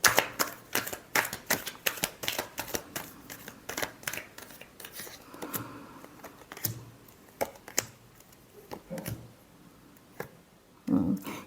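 Tarot cards being shuffled by hand, a rapid run of crisp riffling clicks up close, thinning out toward the end, with no talking.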